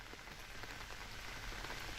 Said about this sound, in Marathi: रत्नागिरी, राजापूर या भागांना पावसानं चांगलं झोडपून काढलेलं आहे.